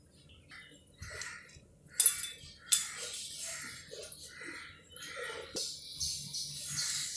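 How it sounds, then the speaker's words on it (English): Ice cubes are dropped into a steel glass of water, giving a few sharp metallic clinks, with quieter rattling and handling noises around them. "and little ice cubes."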